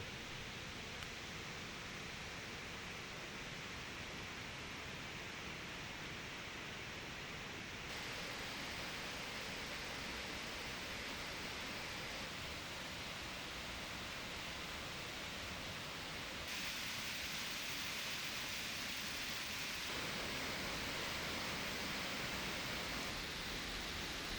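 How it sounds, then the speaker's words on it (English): Steady broadband rush of fast-flowing water on a hiking trail near Skagway, Alaska, continuous and fairly loud throughout with slight shifts in level and no voices. "With every step, the sound of rushing water became louder and louder."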